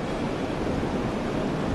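Dense, roaring broadband noise of strong, cold wind buffeting outdoors in Vermont fills the whole clip, loud and continuous with no voices.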